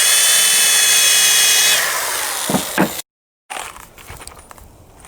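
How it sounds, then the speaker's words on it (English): A power drill bores pilot holes into wooden boards for a custom fish tank stand, a loud steady whine running about two seconds before tapering, then short bursts, a brief silence and quieter handling noise. "I'm going to pre-drill some pilot holes and countersink them also."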